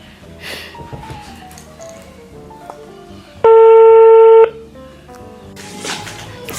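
A single loud, steady electronic telephone tone sounds for about a second in an otherwise quiet room, with faint background sounds before and after.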